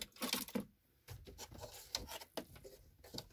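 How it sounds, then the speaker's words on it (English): A 5/16-inch or 8 mm ratchet loosens a screw on a car: quick, close clicking and ratcheting strokes in short irregular bursts, with faint handling noise between them. "So use this ratchet, this kind of ratchet, either 5/16 or 8 millimeter, they're same"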